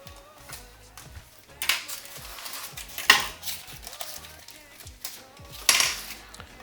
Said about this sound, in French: On va venir couper tout l'excédent.